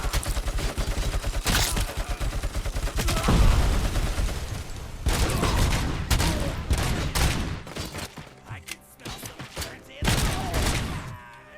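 Dense bursts of video game gunfire, rapid volleys and single shots stacking into a loud fusillade that pauses briefly and resumes, with a voice talking over parts of it.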